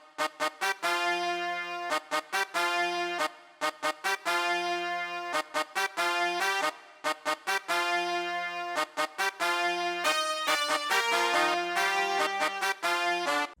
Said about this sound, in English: these sort of stuttering brass top line patterns